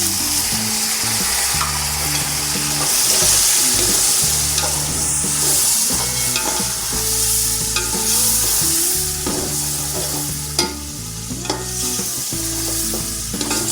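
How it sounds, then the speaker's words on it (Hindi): Finely chopped tomatoes frying in a pot with biryani masala and red chili powder for a large batch of chicken biryani, a loud steady sizzle with frequent scraping and stirring of a spoon throughout, no voices. "अब इसको हम 5 मिनट तक फ्राई करेंगे"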